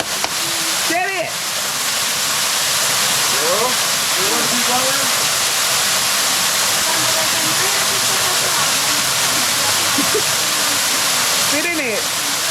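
Mountain waterfall in Colombia pours as a loud, steady rushing roar through the whole stretch, with brief excited voices calling out over it near the start and again near the end.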